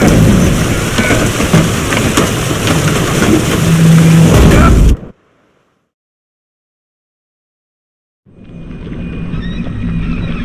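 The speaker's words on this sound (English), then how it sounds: "Didn't bargain for no storm." Heavy rain and rolling thunder from a storm in The Witcher 3 roar loudly and steadily, cut off abruptly into a few seconds of silence, then the downpour resumes just as strong.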